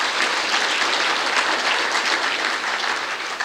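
An audience at a rural water conference awards ceremony claps loudly and steadily for a community engagement winner, a dense, even round of applause with no talk over it.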